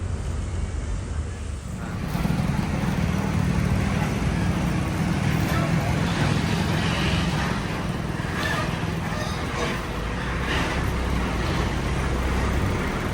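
Morning buses arriving from Jogja roll through busy roadside traffic, a broad steady engine rumble and road noise filling the scene, with brief louder passes toward the end.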